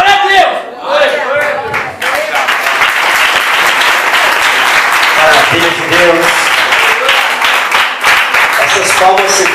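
Loud, sustained congregation applause fills a Portuguese-language church testimony service, mixed with cheering voices and shouted praise, and a few spoken words come through early on.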